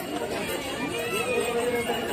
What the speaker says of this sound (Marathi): आता बघ किती गर्दी आहे ना जत्रेला, किती गर्दी असते.